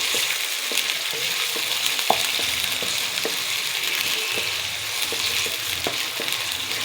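Chicken pieces frying in oil in a pan, browning lightly for arvi chicken masala: a close, continuous hiss of sizzling with scattered small pops and faint utensil clicks, no talking.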